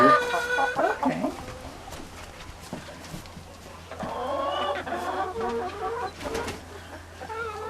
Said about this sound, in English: So these are what they call spent hens.